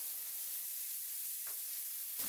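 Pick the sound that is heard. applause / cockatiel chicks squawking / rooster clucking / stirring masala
stirring masala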